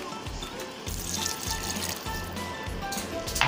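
Water pouring and splashing into a cooking pot of sautéed peppers and onions, a continuous liquid flow heard close up with soft bubbling.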